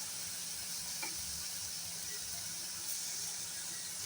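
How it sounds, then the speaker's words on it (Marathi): Fenugreek greens frying in a pan with salt and sugar, stirred with a steady soft sizzle and faint scraping, low and close with no talk. "आता मीठ आणि साखर घातल्यानंतर पुन्हा एकदा अशी चांगली परतायची"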